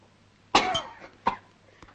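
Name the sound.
coughing after drinking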